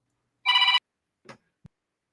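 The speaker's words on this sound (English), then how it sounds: "He's taking a phone call." A telephone rings once in a short electronic trill, followed by a faint rustle and a soft thump, then silence.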